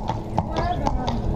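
A horse's hooves clip-clop in a steady rhythm at close range while returning from a ride near a lake, with people talking over the hoofbeats throughout.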